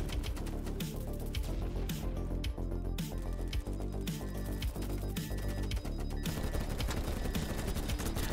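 Continuous rapid gunfire and bursts from a BattleBit match, dense and loud throughout with rhythmic shot transients over a steady game soundscape.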